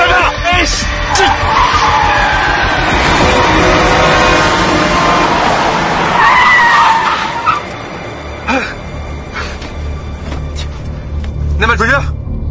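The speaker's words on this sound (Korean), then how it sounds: "차량! 브레이크 밟아!" A car brakes hard and skids, tyres squealing loudly as the vehicle slides, followed by quieter scuffs and sounds; shouting voices are mixed in over the skid.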